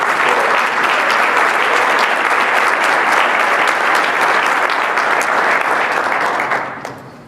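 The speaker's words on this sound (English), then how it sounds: "Let's give these organizations a round of applause for taking a lead." A large audience claps steadily in a dense, sustained wash of applause that fades slightly at the very end.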